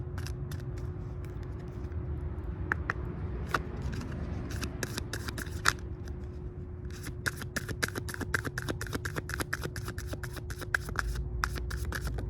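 Tarot cards being shuffled, a steady run of crisp riffling and sliding card taps that continue throughout, close and fairly quiet over a low background hum.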